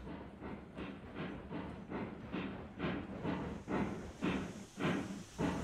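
A train runs in the video game Railroads Online with a soft, regular clickety-clack of wheels over rail joints, steady and fairly quiet throughout.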